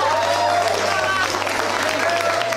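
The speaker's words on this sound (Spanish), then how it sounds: "¡Se merecen un aplauso!" Cast and crew at the wrap of a television drama break into dense, steady applause, loud and continuous, with a low hum underneath and voices calling out through it.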